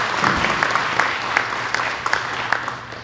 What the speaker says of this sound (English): Let's give her a round of applause to be here.